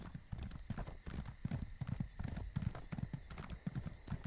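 Horse hooves galloping in The Elder Scrolls Online, a fast rolling clip-clop rhythm that keeps going the whole time, fairly faint and steady, with no one speaking.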